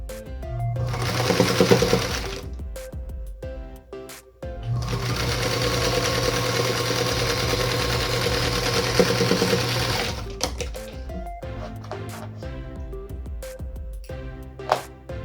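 A sewing machine stitches quilt block rows in two long bursts, a steady fast mechanical whir and needle chatter up close, separated by short pauses with light fabric handling.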